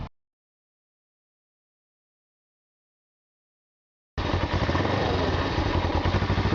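A Suzuki GS500F motorcycle engine runs steadily during a carburetor sync, starting abruptly after a long silence and holding a loud, even, buzzing idle close by.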